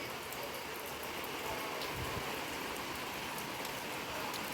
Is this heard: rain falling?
yes